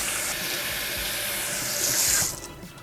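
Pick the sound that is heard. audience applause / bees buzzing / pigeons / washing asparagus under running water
washing asparagus under running water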